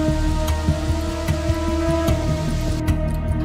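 Heavy monsoon rain in Bhatwari, Uttarkashi, Uttarakhand, a dense steady roar of downpour with scattered drop impacts and an underlying hum, loud and continuous throughout.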